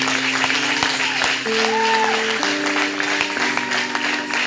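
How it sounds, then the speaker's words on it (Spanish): Church congregation clapping during a sermon, steady broad applause filling the room, with music or tones sustained underneath and a voice faintly present. "Dale un aplauso al Señor."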